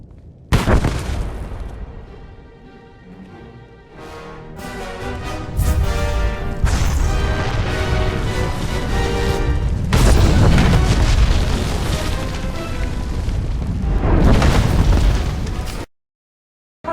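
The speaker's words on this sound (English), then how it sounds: "Set off the bomb" A bomb goes off in Star Wars: The Old Republic, set on Corellia. A loud, sustained blast rumbles and rolls with repeated booming surges for many seconds, then cuts to silence near the end.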